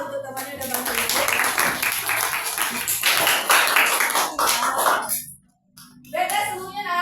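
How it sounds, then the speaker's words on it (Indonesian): A class of students in a seventh-grade science lesson claps their hands together. The clapping is dense and continuous for several seconds, briefly stops, then resumes, with speech in the room. "tepuk tangan lah untuk temannya udah bantu duduk"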